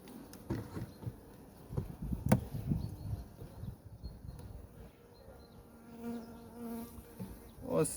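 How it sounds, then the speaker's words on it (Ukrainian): Honeybees buzz in a dense, close hum, with handling bumps and knocks of a hive frame scattered throughout. "Ось така кількість бджоли на ній."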